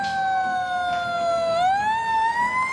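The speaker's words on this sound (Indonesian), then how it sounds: "Wow, ini truk pemadam kebakaran teman-teman." A toy fire truck wails with an electronic siren that sweeps down and then rises again, close and steady, over a light background hiss.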